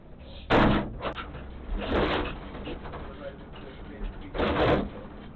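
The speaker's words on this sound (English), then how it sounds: "I'm going to close this door" A door swung shut inside a police station, giving several solid thuds and knocks spaced a few seconds apart, fairly quiet, with scuffling movement in between.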